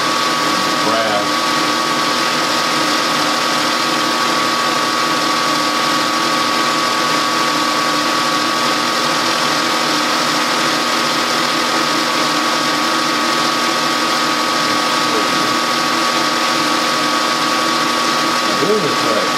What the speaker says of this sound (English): the mill should be running a lot more RPM than I have for that little end mill